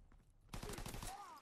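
Rapid pistol gunfire in Call of Duty: WW2, dense bursts of close shots from akimbo machine pistols firing in quick succession after a brief quiet lead-in, with faint talk underneath.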